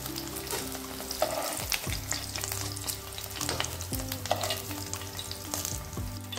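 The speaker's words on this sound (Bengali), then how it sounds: "এই পাশটা ভেজে নেব। এগুলো হয়ে গেছে, এবার এগুলো তুলে নেব।" Water lily fritters frying in a pan of hot oil give a continuous close crackling sizzle, with occasional utensil clatter as they are turned and lifted, under soft background music.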